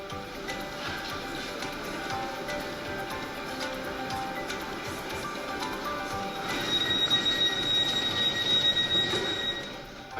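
A high-speed bullet train runs on upgraded track between Belgrade and Novi Sad, giving a steady rumble with rising wheel squeal and high metallic whines toward the end, no voices.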